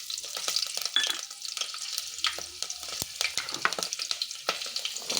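Cloves, cardamom, cinnamon, bay leaf and green chillies sizzle and crackle in hot oil in a pan for chicken biryani, with sharp pops and spatula scrapes over a steady close frying hiss, no talk.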